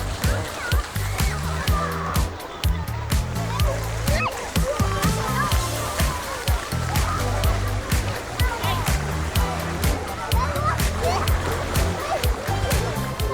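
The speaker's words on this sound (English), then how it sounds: "The splash pad has a lot of fountains," Water from a splash pad's many fountains, jets and buckets sprays and splatters continuously into a shallow outdoor park pool where kids play, a dense steady wash broken by frequent sharp splashes, with voices in the background.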